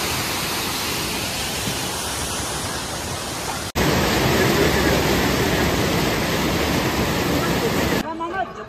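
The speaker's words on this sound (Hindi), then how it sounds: "ये नीचे से जोरदार झरना बह रहा है और हम इस झरने पर से निकल रहे हैं" A powerful waterfall rushes below a mountain trail between Chandanwari and Sheshnag on the Amarnath Yatra route, a loud, steady roar filling the scene, briefly cut off mid-way before resuming, then dropping out near the end.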